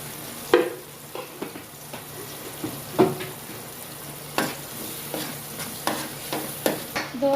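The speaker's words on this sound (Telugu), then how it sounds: "దోరగా వేగిందండి" A spice paste of turmeric and chili powder fries in a pan for a Nellore-style raw mango fish curry, with a steady soft sizzle broken by repeated sharp scrapes and clacks of stirring, close up and without talk.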